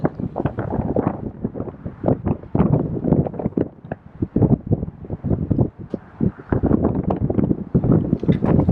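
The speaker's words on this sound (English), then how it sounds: "it's really windy" Strong wind buffets the microphone in continuous rough gusts atop an abandoned 15-story grain elevator in Buffalo, New York, loud and close, with no clear voices.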